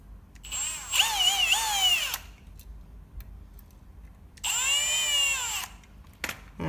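A power drill drives two small screws into a plastic pet door casing, two separate whirring bursts of about a second or more each, close and fairly loud, split by a quiet gap and followed by a small click.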